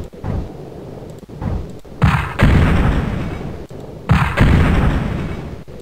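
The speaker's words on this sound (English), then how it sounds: "Opponent fire." Enemy artillery and gunfire in Spellcross, with a few muffled thuds early on, then two heavy, loud blasts at about two and four seconds, each followed by a long rumbling decay.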